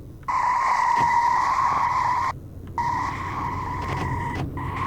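A car in a video game skids with a sustained tonal tire squeal over low engine rumble, cutting out briefly twice before resuming, loud and close, with no talk.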